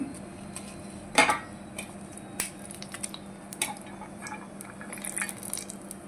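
Dry red chillies and tempering seeds dropped into hot peanut oil, giving sharp scattered crackles and pops with a few metallic clinks of a utensil against the pan, close and fairly quiet.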